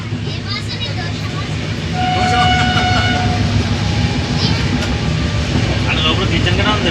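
Rumbling rattle of a moving train heard from inside a passenger carriage, a steady loud low drone with clacking, rising slightly after a couple of seconds, with a faint distant horn-like tone midway.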